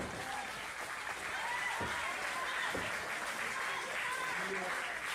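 A crowd applauds and cheers in a steady, fairly faint wash of clapping that holds throughout, with a couple of brief thuds.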